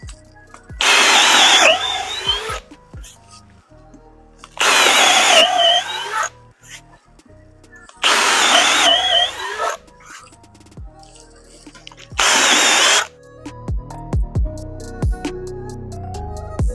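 A jigsaw rough-cuts a 1.5-inch board for an underseat subwoofer box in a Ford F-150, four loud bursts of a few seconds each separated by short pauses, with faint clicks and handling noise between cuts.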